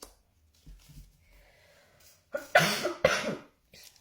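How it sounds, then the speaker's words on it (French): Two sharp, close coughs in quick succession after a quiet stretch of faint breathing and small mouth sounds. "vous voyez, même moi, ça me fait tousser."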